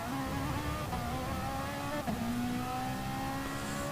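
A race car accelerates out of a corner with a sustained, rising engine drone, heard at a moderate distance and steady throughout without talk.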